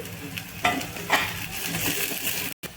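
Onion and curry leaves fry in hot oil with a steady close sizzle, broken by a few sharp stirring scrapes and a brief cut-out near the end.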